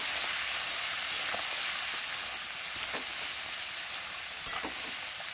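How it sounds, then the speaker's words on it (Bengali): Turmeric and chili powder stirred in a hot frying pan, a steady close sizzle with a few soft scrapes of the spoon against the pan. "নাড়িয়ে মশলাটা মিশিয়ে নেব।"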